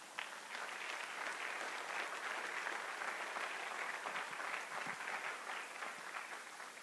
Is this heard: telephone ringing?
no